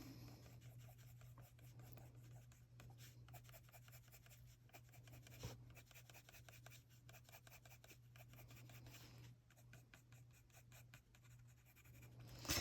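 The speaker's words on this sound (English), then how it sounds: "you want to pick up your pencil almost every time you go to do a flick" A colored pencil makes a long run of soft, rapid scratchy flicking strokes on paper, heard close and steady with no talk over a low hum.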